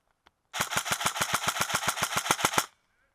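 An airsoft gun fires a rapid burst of about fifteen sharp, evenly spaced shots lasting two seconds, close and loud, after a single faint click.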